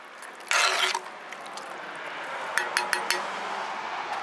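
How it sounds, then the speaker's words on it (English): A spoon stirs lima bean and okra stew in a metal pot, giving a short scraping rush followed by scattered clinks and knocks against the pot over a simmering background hiss, close by. "Just give that a stir a little bit."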